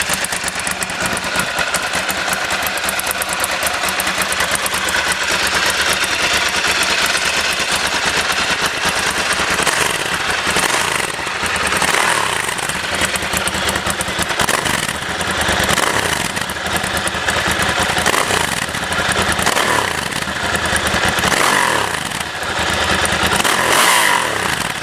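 A Bimota motorcycle powered by a Ducati 1100 air-cooled V-twin engine rumbles loudly and continuously for the whole stretch, its uneven, rapid pulsing beat carrying on with no one speaking.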